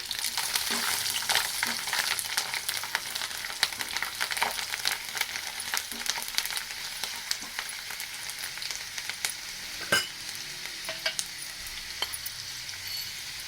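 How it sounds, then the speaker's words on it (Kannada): Mustard seeds and garlic fry in ghee in a pan, giving a steady close sizzle with scattered crackles and pops and no voices. "ಈಗ ಒಂದು ಬಟ್ಲಷ್ಟು ತುಪ್ಪ ಹಾಕ್ಕೊಂಡಿದ್ದೀನಿ, ಸ್ವಲ್ಪ ಸಾಸಿವೆ ಹಾಕ್ಕೊಂಡಿದ್ದೀನಿ"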